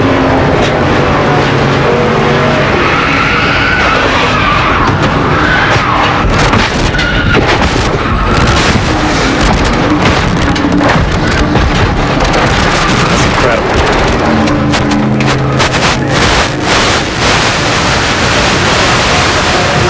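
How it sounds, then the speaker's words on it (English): In-car audio from an ARCA race car crashing at Daytona. A loud, continuous roar of wind and engine noise is broken by repeated heavy impacts as the car tumbles and strikes the ground. Speech runs through parts of it. "you could hear every time the car hit the ground, it took another tumble"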